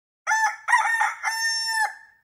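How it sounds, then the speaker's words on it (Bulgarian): Synthesized rooster crow from an electronic keyboard's animal-sound preset, a single long cock-a-doodle-doo in several sustained, bright segments, loud and close with no talking. "Или пък петел."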